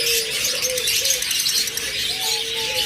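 Caged pet birds offered for sale chirp and whistle in short, thin calls scattered over steady background noise, with no voices.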